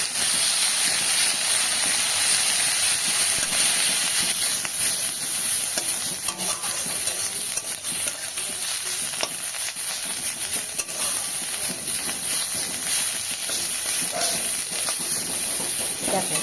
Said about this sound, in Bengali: এবার আমাকে গ্যাস কমিয়ে আস্তে আস্তে নিম পাতাগুলো ভেজে নিতে হবে।